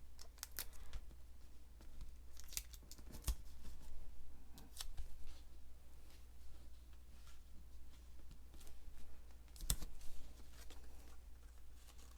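Scissors snip through cardstock while making a Christmas/winter greeting card, giving faint, scattered crisp cuts against a quiet room hush, with no talking.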